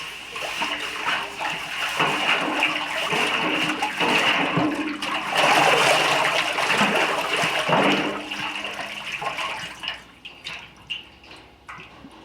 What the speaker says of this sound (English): I wonder if swirling water on will make a difference.